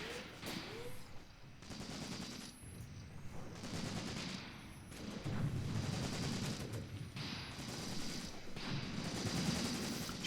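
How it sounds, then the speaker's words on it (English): Artillery and gunfire in Graviteam Tactics, a World War II Eastern Front battle, with sustained crackling fire and repeated dull blasts rolling through the whole stretch at moderate distance, plus a faint voice briefly. "High explosive artillery rounds right there."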